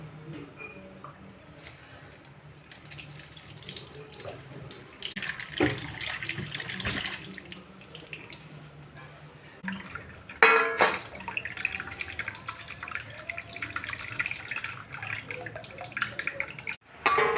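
Water is drained off soaked sorghum flour, with trickling, dripping and splashing pouring from a vessel near at hand, quieter at first, then louder gushes and wet squishes in bursts, with no voices.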